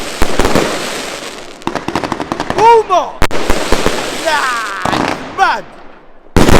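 Fireworks explode at a 2021 bonfire night display, a rapid volley of sharp cracks and bangs with whistling, rising rockets between bursts, fairly close and loud, with people exclaiming over them.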